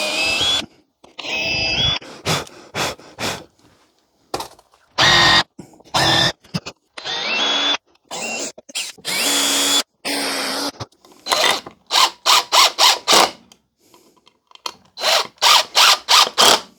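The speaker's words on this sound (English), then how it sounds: "drill the holes through and put some screws in" A power drill whirs in repeated short bursts while drilling holes through wood, starting and stopping in an uneven rhythm, loud and close, with no talking.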